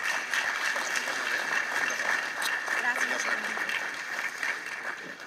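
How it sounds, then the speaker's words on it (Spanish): Applause from an audience at a criminal law lecture welcoming the speaker, a steady even wash of many hands clapping at moderate volume with no pauses. "Démosle un fuerte aplauso y la más calurosa de las bienvenidas"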